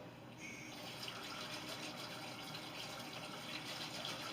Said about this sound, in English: You're going to want to use hot water because it's better that way.